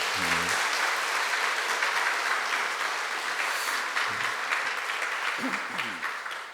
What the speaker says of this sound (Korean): 다시 한번 박수로 감사하면 좋겠습니다